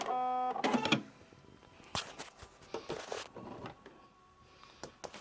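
Scissors cut through fabric pieces for a pet rag quilt: quiet, close snips and crisp rustling of cloth in irregular bursts, with soft handling noises between cuts.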